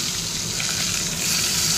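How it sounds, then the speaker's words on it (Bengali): Eggplant (brinjal) slices fry in a pan, giving a steady, close, continuous hiss and sizzle of hot oil that holds at an even loudness without a break. "বেগুন ভেজে নিই।"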